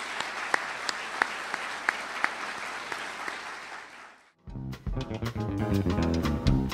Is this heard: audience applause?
yes